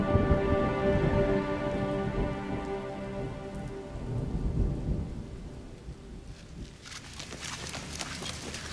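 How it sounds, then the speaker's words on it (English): Steady rain pours down during a storm over the sand dunes of Mongolia, with low thunder rumbling from far off beneath a continuous, fairly loud downpour. "Luckily, the center of the storm passes across the distant dunes."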